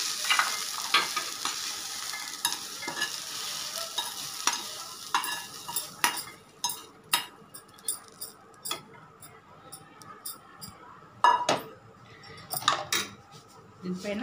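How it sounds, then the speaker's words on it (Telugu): A hot sprouted-grain fry served from the pan into a bowl with a spoon, a string of sharp metallic scrapes and clinks in an irregular rhythm, close and clear over a faint fading sizzle. "ఇప్పుడు నేను ఒక బౌల్లోకి సర్వ్ చేసుకుంటున్నాను"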